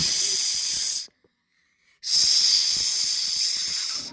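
A large snake gives two long, loud, breathy hisses close by, each about a second or more, separated by a brief silence.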